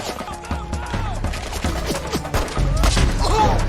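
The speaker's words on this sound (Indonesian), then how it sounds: "akhirnya dia pun membantu Brandon untuk menembaki semua prajurit PBB" Gunfire in a battle scene from the action film Sniper, with soldiers being shot: dense overlapping shots and explosive bursts under a film score and voices, loud and continuous throughout.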